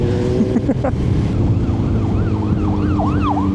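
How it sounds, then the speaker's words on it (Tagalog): An ambulance siren wails, rising and falling repeatedly from about midway, over loud, steady road and engine noise from a Honda X-ADV 750 scooter. "Yun na, may ambulansya na."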